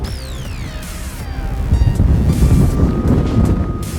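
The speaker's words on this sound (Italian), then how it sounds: "il vento è veramente troppo forte" Strong wind buffets the microphone in a continuous loud roar with gusting rumble, while a descending whistling tone sounds early on, atop the Nuraghe Succoronis near Macomer, Sardinia.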